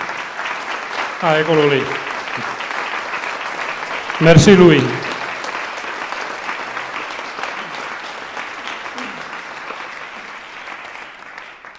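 Audience applause for Louis de Jarieu at a concert by an Alpine men's choir, rising briefly and spread through the room, with spoken voices before and over it.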